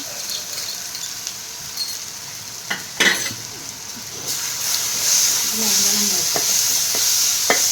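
Sliced onion and garlic sizzle in hot oil in a pan for a Kerala-style chickpea stir-fry, a steady close hiss that swells louder midway, with a few light utensil clinks.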